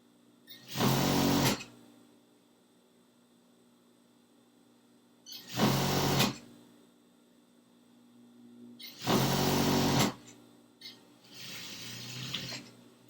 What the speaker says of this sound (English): I can now sew the inseam.